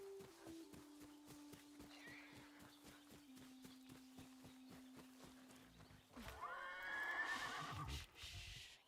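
An agitated horse in the video game Ghost of Yotei neighs loudly in a shrill whinny after a run of steady rhythmic hoof clops, set against a low droning background.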